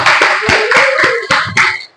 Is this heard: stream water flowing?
no